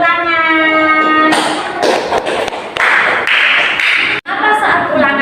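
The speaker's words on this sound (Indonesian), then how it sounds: "kasih tepuk tangan" A classroom of students claps together, a burst of applause in uneven waves that fades and swells for several seconds after a teacher speaks.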